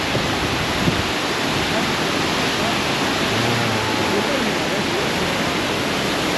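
Hongryong Falls in Yangsan, South Korea, roars steadily and loudly, a dense unbroken rush of falling water filling the whole stretch.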